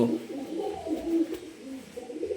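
An Aliwala pigeon, one with damaged wing feathers, coos close by in low, throaty, rolling phrases that rise and fall over soft background noise.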